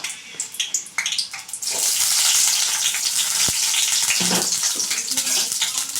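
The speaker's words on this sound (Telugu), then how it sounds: "ఆయిల్ వేసుకున్నాం మనకు తగినంత ఎర్రగడ్డలు వేసుకున్నాం" Onions dropped into hot oil in a pan for tomato rice give a sharp burst of sizzling that settles into a loud, continuous fry, after a few earlier clinks and scrapes.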